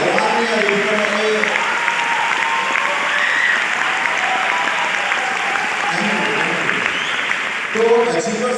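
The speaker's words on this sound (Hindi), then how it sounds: "तालियां रुकनी नहीं चाहिए" An audience applauds steadily at a Science City program in Kolkata, a dense wash of clapping that continues throughout, with a voice faintly audible at the edges.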